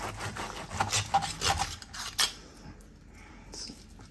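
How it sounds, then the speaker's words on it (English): A knife slices through air-fried prime rib in a short run of rasping cuts and scrapes, several strokes, then a quieter stretch. "Let's cut out that chunk there. Let's get another slice here."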